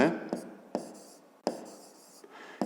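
A pen scratches out a maths answer on paper in a few quick strokes, with short gaps between them, while a teacher talks over the writing.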